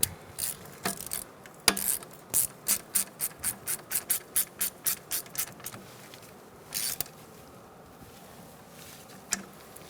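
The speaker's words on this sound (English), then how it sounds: "So get your bolt started. And tighten that down." Brake hose bracket bolt on a 2002-2006 Toyota Camry being tightened with a ratchet: a quick run of about a dozen evenly spaced clicks, followed by a few scattered single clicks, close and fairly quiet with no talking.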